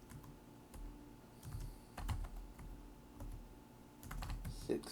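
Quiet typing on a computer keyboard while entering text into a spreadsheet cell, with irregular soft key clicks in short bursts and a brief louder tap near the end.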